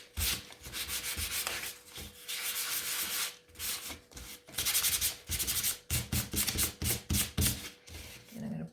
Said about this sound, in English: So this one should just need a sand.